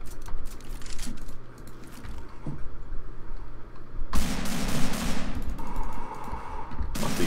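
Gunfire in the game CS:GO, dense rapid shots rattling continuously and then turning louder and harsher midway, with brief gaps between bursts.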